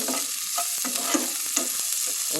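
Onions sauté in a pan for cabbage poriyal, a bright continuous sizzle broken by quick scraping strokes of a spoon, close and fairly loud throughout.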